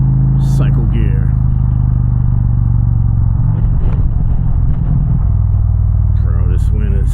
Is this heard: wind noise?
yes